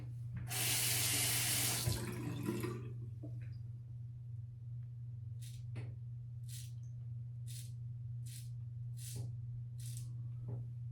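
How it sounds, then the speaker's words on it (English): Water runs from a tap in a loud two-second burst, wetting a Maxwell June twin-blade razor, followed by a few short scraping strokes over a steady low hum. "let's wet the razor"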